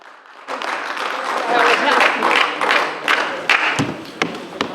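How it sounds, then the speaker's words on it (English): An audience at a weightlifting competition applauds athletes stepping up for the medal presentation, a broad wash of clapping that swells after a quiet start and holds steady, with a few louder thumps near the end. "a round of applause please for our athletes coming up for our medal presentations"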